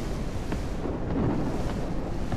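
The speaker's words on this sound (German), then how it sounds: "Das ist mit dem Gewitter richtig cool gemacht." Thunderstorm rumble inside the horror video game Haunted Hallways, a steady low roar with a soft swelling crash around the middle, continuous and fairly loud with no talking.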